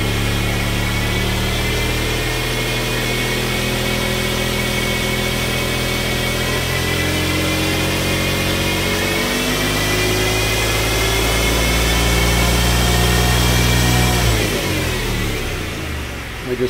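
A 1999 Mercedes-Benz CLK320 engine revs up from idle, pitch rising steadily in one long climb and holding before settling, loud and close with no talk; the car has a fault that makes it cut out at 4800 RPM.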